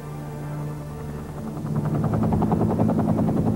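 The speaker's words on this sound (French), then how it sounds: "un hélicoptère du gouvernement vient le chercher" Government helicopter rotor noise builds from a low drone into a steady, pulsing thump, growing louder and closer with no voices.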